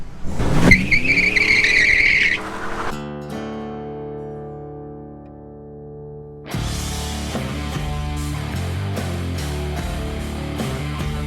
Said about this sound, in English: The first step to every test drive is see if it'll do a burnout.